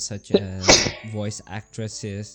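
One sharp sneeze bursts out in the middle of talk during a podcast recording. Close and brief, it sits between stretches of conversational speech.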